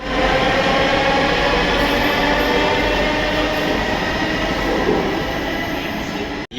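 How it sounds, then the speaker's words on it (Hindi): A Delhi Metro train pulls into a station platform, a loud, steady roar of wheels and motors with a faint high whine, running continuously before cutting off abruptly at the end. "ये देखिएगा मेरी वाली मेट्रो आ गई है"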